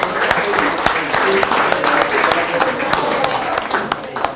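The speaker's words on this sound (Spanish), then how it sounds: "Listo, un aplauso." A group applauds steadily for several seconds, a dense wash of clapping in a room, with a few voices audible underneath.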